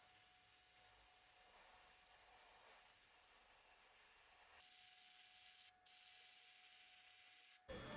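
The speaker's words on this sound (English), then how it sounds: "I am spraying the paint from above to get some of that zenithal highlighting effect." A continuous airbrush hiss sprays paint steadily from above onto a 1/48 scale MH-60L helicopter model for several seconds, changing pitch partway through and briefly cutting out twice.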